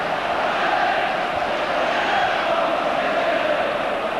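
A crowd of 53,718 at the 1982 Scottish Cup Final between Rangers and Aberdeen roars steadily in a football stadium, a dense continuous din of chanting and shouting with no break.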